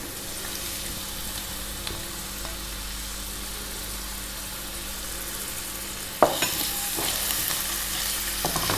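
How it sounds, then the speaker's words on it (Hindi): Onions frying together with potatoes in a pan make a steady, low sizzle. A couple of utensil knocks come near the end, and a faint engine-like hum runs underneath, with no voices. "इसको 1 मिनट तक फ्राई करेंगे इसके साथ"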